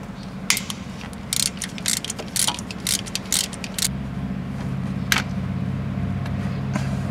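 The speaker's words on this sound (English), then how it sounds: "next we'll remove our tensioner pulley, which looks to be held in place by this one 12 millimeter bolt" A ratchet wrench loosening the single 12 mm bolt on a timing belt tensioner pulley of a Mitsubishi 2.4L SOHC engine, giving a run of close, bright clicking bursts that stop partway through.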